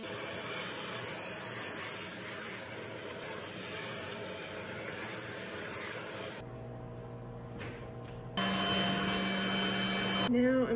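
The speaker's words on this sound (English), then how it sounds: "I have the electric sander now." An electric sander runs steadily against a skateboard deck being refinished for a custom paint job, a continuous close buzzing whir that cuts out briefly near the end before starting up again louder.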